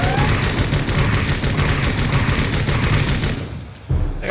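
Suppressing fire rattles out in Mobile Suit Gundam: Record of 0081, Zeon campaign: a loud, sustained burst of rapid automatic gunfire that stops abruptly near the end, followed by a brief thump.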